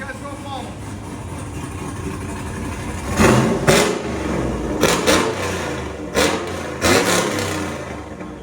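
A cammed Chevy Silverado V8 with headers and a Corsa Extreme exhaust idles loudly, then throws several sharp revs in a row, each burst rising and falling back to a rumbling idle, with voices faintly underneath.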